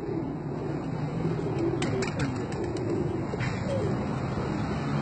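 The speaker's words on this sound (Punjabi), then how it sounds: "ਸਾਡੇ ਕਬੂਤਰਾਂ ਦੇ ਵਿੱਚੋਂ ਬਰੀਡਰ ਕਬੂਤਰ" Breeder male pigeons cooing in a loft in Daska, Sialkot, Pakistan, soft repeated low coos under steady background noise, with a few faint chirps in the middle.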